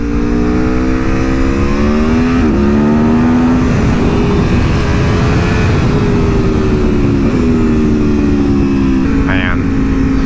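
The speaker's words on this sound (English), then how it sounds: "Man, it's 1100 V4 sounds so good." A 2021 Aprilia Tuono V4 Factory 1100 motorcycle's V4 engine revs and pulls hard under riding, its loud harmonic howl rising and dipping through gear changes, with rushing wind throughout.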